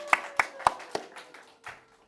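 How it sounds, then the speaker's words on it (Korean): A church congregation claps during Sunday worship in a few distinct, evenly spaced claps that quickly thin out and fade, close and fairly quiet. "박수 한번 하겠습니다."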